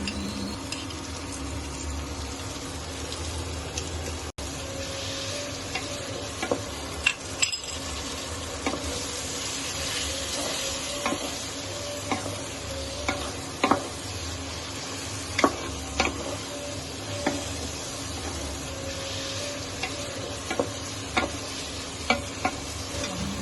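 A ginger-garlic spice paste with turmeric, chili, cumin and coriander powders is stirred in a pot, giving a steady low sizzle with scattered soft scrapes and clinks of a spoon against the metal, close by and with no talking.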